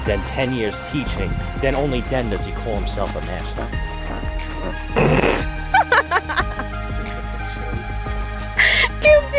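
A short, loud burst of flatulence-like sound amid ongoing conversation, followed later by a briefer similar blast near the end.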